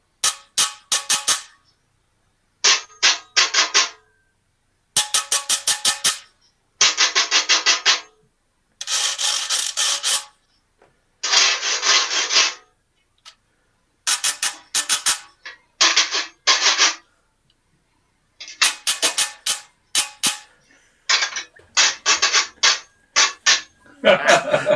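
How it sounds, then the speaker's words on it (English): Rhythmic scraping rasps from a cheese grater played like a guiro, short bursts of strokes in copied rhythm patterns with pauses between phrases, loud and close, no talking. "they're going to show us how to play a cheese grater as a guiro"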